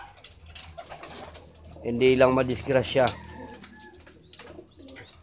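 Racing pigeons in a loft coo in a short cluster of soft, throaty calls, close by, while a person speaks nearby.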